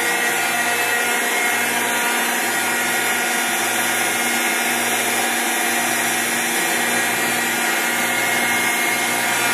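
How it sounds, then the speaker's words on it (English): A Rockford 24-inch hydraulic shaper runs on 230 volts with a steady loud mechanical whine and hum, with the stroke rhythm cycling underneath about once a second throughout. "Frankie's going to go ahead and demonstrate how well this machine runs, performs, and operates."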